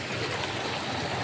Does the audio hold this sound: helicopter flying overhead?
no